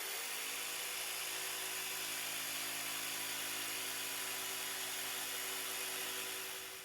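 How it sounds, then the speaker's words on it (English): A power drill whines steadily at high speed, drilling holes in a wood board, a continuous loud motor hum with no breaks, winding down slightly at the very end. "So I got to drill all these out,"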